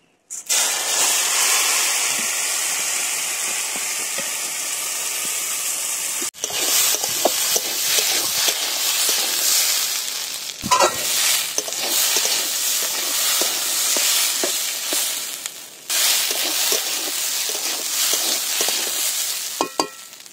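Drained lentils and rice frying in oil on low heat for a Bengali muri ghonto, a continuous close sizzle and hiss with stirring scrapes and brief dips where the pan is worked, no voices.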